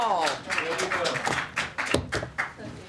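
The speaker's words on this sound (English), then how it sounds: "Finally, applause coming in." Scattered audience clapping at a State Department press briefing, a handful of uneven taps and thuds rather than a full ovation, with a voice speaking over parts of it.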